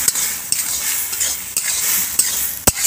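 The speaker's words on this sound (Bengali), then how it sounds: "এবার একটু ভালো করে একটু নেড়ে চেড়ে নিতে হবে" Ginger paste and small green chillies stirred in a hot pan for soybean khichuri, an even sizzle broken by a few distinct metallic clinks of the spoon against the pan, close, no talk.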